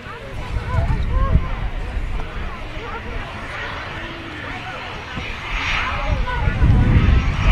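Airliners, including Middle Eastern carriers' jets, departing Manchester Airport, giving a steady broadband jet roar that swells slightly toward the end, with voices faintly present beneath.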